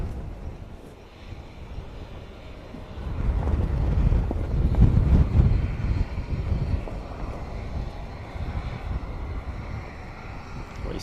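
An AW139 helicopter arrives at the Royal International Air Tattoo air show, a low rumbling drone that swells to a peak midway and then eases, mixed with gusty wind noise.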